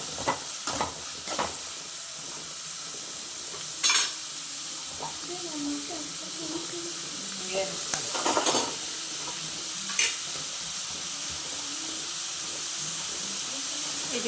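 Onions fry for egg curry in a pan, a steady close sizzle and hiss with scattered stirring clinks and scrapes running through, and a few faint murmurs of voice in the background.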